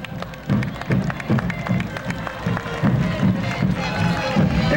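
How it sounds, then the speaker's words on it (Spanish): Crowd at a school parade in Ate, Lima, applauding and clapping steadily as a school contingent enters the parade avenue, with cheering and bustle mixed in throughout. "Fuerte los aplausos."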